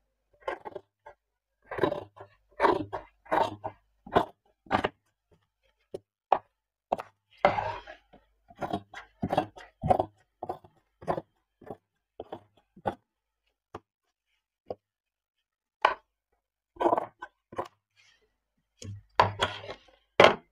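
Scissors cutting shirt fabric at a tailoring table, close, crisp snips in irregular bursts with quiet gaps between, no talk.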